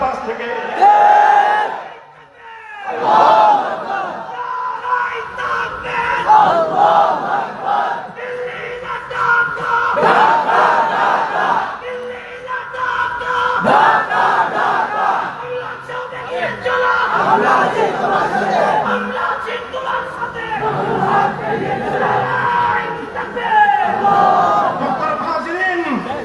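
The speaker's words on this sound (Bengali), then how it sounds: "আধিপত্যবাদের বিরুদ্ধে স্লোগান" A large rally crowd chants slogans against hegemony: loud, massed voices shout in rhythmic waves for the whole stretch, with a short lull near the start.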